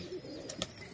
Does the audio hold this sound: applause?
no